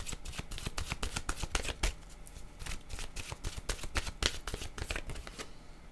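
Oracle cards are shuffled in a rapid, continuous run of crisp riffling flutters, close and fairly quiet, with no voice.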